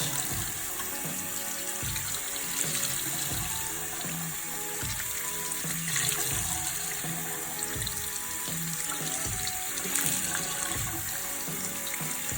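Water runs steadily from a tap as a paint brush is refilled and squeezed beneath it, with a continuous close splashing stream and faint squelches throughout.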